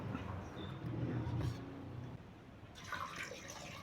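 Two glasses of water are poured into a pot of mutton with green chillies, grated ginger and coriander leaves for a mutton pepper fry, a steady, close splashing pour with a brief dip before it continues.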